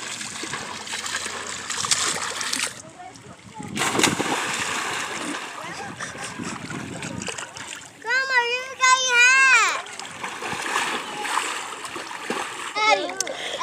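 Water splashing in an outdoor swimming pool as kids jump and swim, with broadband splashes and trickles throughout, children shouting and squealing over it, and a burst of high excited voices near the middle.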